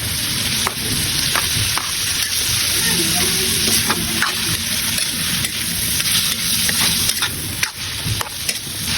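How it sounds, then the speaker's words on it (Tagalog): Chicken sautéing in a wok with squid balls and kikiam added for pancit canton, a steady close sizzle broken by repeated scraping stirs and clinks of the spatula. "kapag nagigisa na maayos ang ating chicken, sunod na natin yung squid ball at kikiam"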